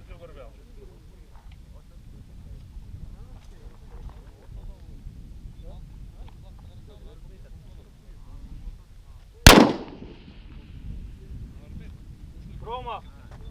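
A single sharp sniper rifle shot cracks out loud at a sniper cup shooting competition by Issyk-Kul, leaving a brief ringing tail, with people talking quietly throughout.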